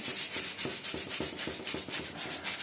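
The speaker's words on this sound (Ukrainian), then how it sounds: "трошечки далі розшліфовуємо, щоб в нас вся риска, те, що 80-кою була зроблена, щоб вона в нас була перетерта 180 м абразивом" Hand sanding with 180-grit abrasive, smoothing out 80-grit scratches to prepare a repair spot for filler before painting: steady, rhythmic rasping strokes, close and continuous, with no talking.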